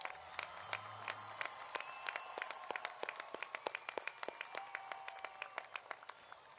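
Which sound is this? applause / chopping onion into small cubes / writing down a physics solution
applause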